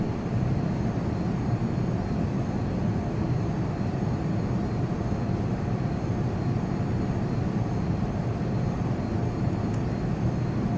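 An F-22 Raptor jet engine drones steadily at reduced throttle during a simulated approach, a continuous low rumble with a broad roar, even in level and unbroken, with no voices.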